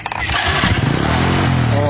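A small coin-operated toy motorcycle vending ride starts up after a five-peso coin drops in, its little motor buzzing loudly and steadily over a short stretch while someone talks nearby.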